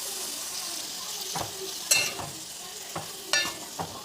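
Drumstick and tomato pieces fry in oil with a steady sizzle, while a few distinct scraping stirs of a utensil against the pan stand out close by.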